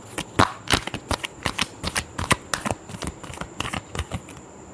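A deck of tarot cards is shuffled by hand, making a rapid run of crisp, close flutters and snaps, about a dozen quick riffles in a row.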